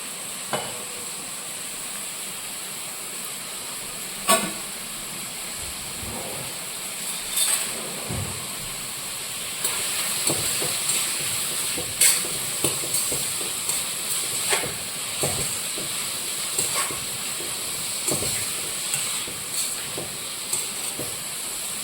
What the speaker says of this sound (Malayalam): സവാള ഇതിലേക്ക് നമുക്ക് ഇടാം നന്നായിട്ടൊരു ബ്രൗൺ നിറത്തിലാവണം സവാള